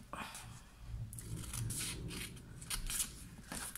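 Scissors snip through scored patterned paper for a small 6x6 gift basket, a few crisp close cuts and rustling paper handling, quick and near, without talk.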